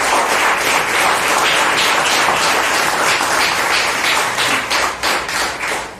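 A church congregation applauding during a sermon, dense sustained clapping from many hands filling the room, loud and close, tapering slightly toward the end.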